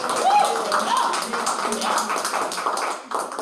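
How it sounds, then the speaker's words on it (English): Audience applause for a panelist at a health talk panel presentation, a steady wash of clapping that runs the whole moment with a voice speaking over it. "one more round of applause"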